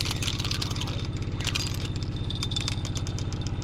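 A motor engine runs steadily nearby with a fast, even low thump and a faint rattle, plus scattered clatter and light knocks on top.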